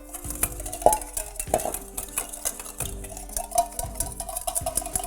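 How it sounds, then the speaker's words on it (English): Whisk stirring a Dijon mustard mixture in a bowl, with steady rhythmic clinking and scraping of metal against the bowl, close and moderately loud, no talking. "I'm actually gonna whisk all of this together."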